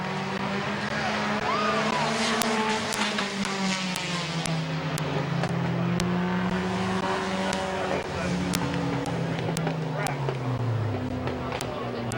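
A race car rolls down toward victory lane at a dirt-track B feature at Midvale Speedway, its engine a steady nearby drone with shifting pitch and crowd noise beneath, while an announcer talks over the PA.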